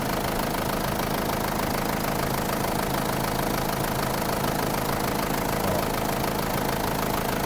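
A diesel engine running steadily at close range, a dense, loud, continuous clatter and rumble with no change in pace and no voices over it.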